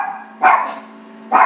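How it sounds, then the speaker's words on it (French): A house dog gives two sharp barks about a second apart, loud and close, with nothing else heard between them. "Ça c'est Zina qui aboie."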